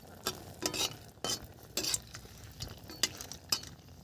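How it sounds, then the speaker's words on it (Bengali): Dry red chillies fry in hot oil in a kadai, a soft steady sizzle broken by several sharp scraping stirs and clinks of a spatula against the pan. "শুকনো লঙ্কাটা ভেজে নেওয়ার কারণ হলো, শুকনো লঙ্কাটা একটু ভাজা হলে সেন্টটা খুব দারুণ আসে।"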